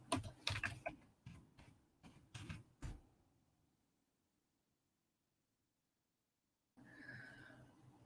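Keystrokes on a computer keyboard clatter in quick bursts over about three seconds, close and fairly loud, then stop; after a silent gap a different faint background sound comes in.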